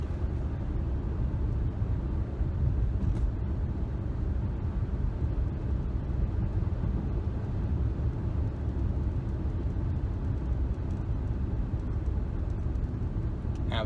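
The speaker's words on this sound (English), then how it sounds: "I'm going to accelerate up to 55 miles an hour here, and I'm going to set the cruise control" Steady low road and engine rumble inside a 2008 BMW 750Li cruising at 55 mph on cruise control, a constant hushed drone with faint tire noise and no talking.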